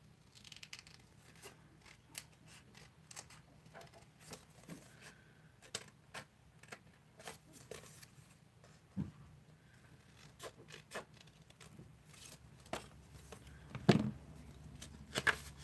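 Paper being cut with scissors for a handmade junk journal, a long run of quiet, repeated snips and crisp rustles at close range, with a louder crunch near the end.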